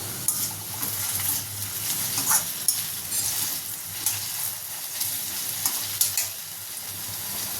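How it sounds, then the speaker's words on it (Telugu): Potato pieces fry in a pan with curry leaves and turmeric, giving a steady soft sizzle broken by repeated scraping stirs of a utensil against the pan. No voices are heard. "ఆలుగడ్డ మంచిగా ఫ్రై అవ్వాలి. ఇందులో ఇప్పుడు ఒక రెమ్మ కరివేపాకు వేస్తున్నా."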